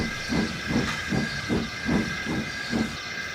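A steam engine puffs steadily, about seven rhythmic chuffs over a constant hiss of steam, moderately close.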